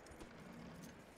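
Faint, quiet hoof clip-clops from a horse in Red Dead Redemption 2, a few soft steps over a low steady background.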